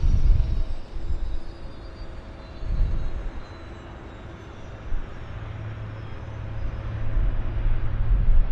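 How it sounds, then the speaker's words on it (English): A Q400 turboprop airliner rolls at Vancouver Airport, its engine hum and whine heard from a moderate distance, swelling and fading over several seconds with steady background rumble. "Another Q400 rolling."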